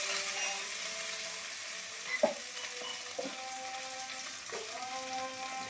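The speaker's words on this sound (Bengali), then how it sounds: "আর এদিকে দিয়ে দেবো তোমার জিরে, একটু ভেজে নিই, তারপরে আদা দেবো।" Cumin seeds frying in hot oil in a pan with bay leaf and dried chilli, ginger added next, for a home-style Bengali fish curry: a steady close sizzle with a few sharp pops and spatula scrapes, no voices.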